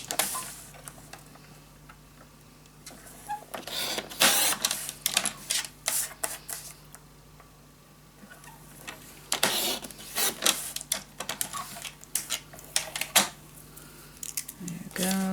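Scissors cutting brown paper for a scrapbook mini album, a series of close, crisp snips and paper rustles in irregular bursts separated by quieter pauses.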